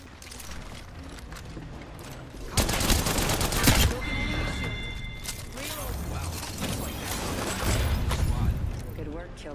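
Bursts of rapid automatic gunfire from a squad battle-royale shooter game, loud and close, with a dense fusillade around the middle and scattered shots and mechanical clicks before and after, alongside in-game effects and a short tonal whine.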